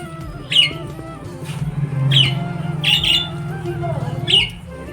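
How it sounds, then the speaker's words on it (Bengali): Birds squawk outdoors in several sharp, repeated calls, close and loud, over a busy background hum. "পাখিগুলো কি শুনে ডাকছে।"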